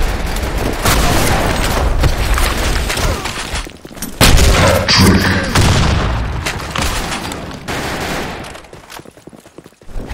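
Grenade blasts in the Blackshot shooter game land as heavy, booming bursts over steady, dense gunfire, loud and close for about ten seconds, with a brief drop before a fresh blast.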